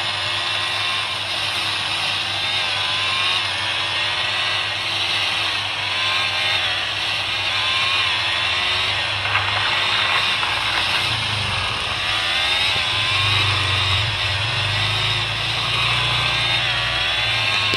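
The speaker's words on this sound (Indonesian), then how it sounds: "Sumpah bunyi mesinnya" A Formula 1 car engine in a mobile racing game drones on as a steady high-pitched whine, with rising and falling revs and a lower growl building later in the run.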